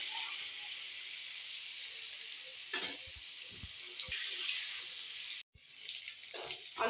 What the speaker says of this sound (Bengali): এবার আমি সেদ্ধ করা এটাও আধ সেদ্ধ আলুটা ভেজে নিচ্ছি।